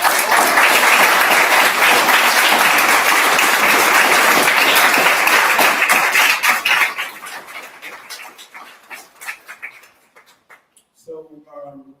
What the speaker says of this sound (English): Give a round of applause for the life of the city.